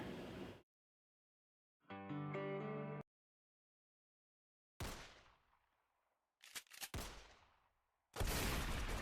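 Several sharp, loud gunshot blasts with echoing tails, separated by silences, and a brief tonal musical swell partway through, as a sound effect in a Stars Without Number tabletop game session.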